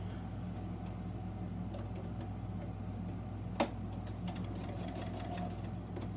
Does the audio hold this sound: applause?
no